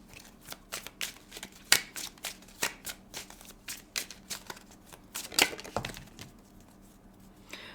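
A tarot deck is shuffled by hand in a sequence of crisp riffling bursts and soft card taps, close and fairly quiet, with short pauses between bursts.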